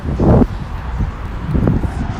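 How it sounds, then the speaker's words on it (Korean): Gusts of wind buffet the microphone in low rumbling bursts, loud and close, with faint outdoor rustling between them, at Cheongna Lake Park in Incheon. "바람 소리 때문에 잘 안 들리겠구나."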